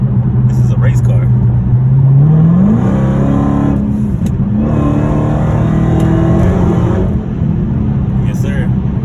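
A Dodge Challenger Hellcat accelerates hard out of eco mode: a loud, close engine that climbs sharply in pitch, then settles into a sustained, strong roar.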